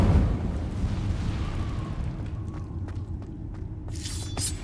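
An Incendio fire spell cast in Hogwarts Legacy gives a low, rumbling whoosh of flame with muffled bursts, followed by a brighter crackling flare near the end.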